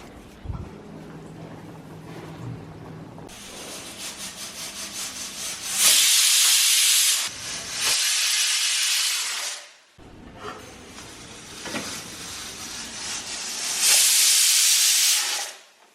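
A pressure cooker whistle vents steam in a kitchen, two loud sustained hissing bursts of a few seconds each, separated by quieter rattling and bubbling, with no speech.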